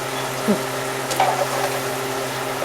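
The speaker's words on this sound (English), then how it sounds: "You stir that around in that butter" Onions and green peppers sizzling steadily in butter in a frying pan as they are stirred, a close continuous frying hiss with a few soft scraping sounds over a short stretch.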